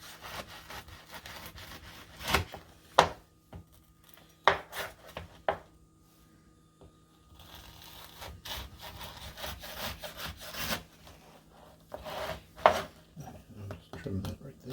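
A knife cuts and trims a slab of Scotch Krispies cereal treats, giving several scraping, sawing strokes with a few sharp taps on the board, close up, with pauses between passes.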